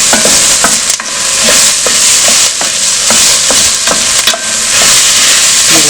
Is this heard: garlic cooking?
yes